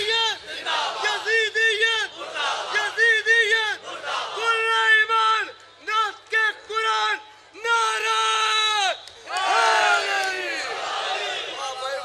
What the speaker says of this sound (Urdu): آخر تک بولو ہاتھ اٹھا کے حیدری.